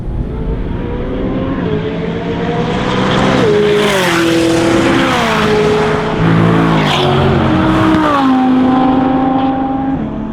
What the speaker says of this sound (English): Giving myself a moment to let the traffic go by, hopefully get a clear shot.